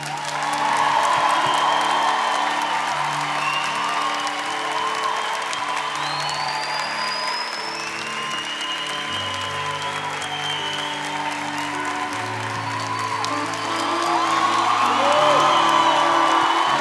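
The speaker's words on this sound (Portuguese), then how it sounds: "aplaude com carinho" An audience at a Marian prayer night applauds warmly and steadily, with scattered whoops and cheers rising through the crowd and the clapping swelling louder toward the end.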